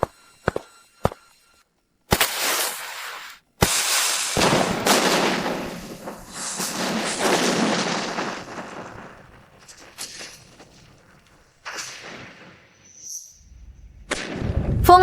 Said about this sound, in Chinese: 准备第2轮炮击。